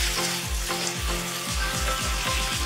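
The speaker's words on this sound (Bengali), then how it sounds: "এবার এটা লো ফ্লেমে মশলাটা ভালোভাবে কষাতে হবে।" Spice paste and pointed gourd sautéing on a low flame for poppy-seed posto, a steady close sizzle with regular scraping strokes of a spoon every half second, no voices.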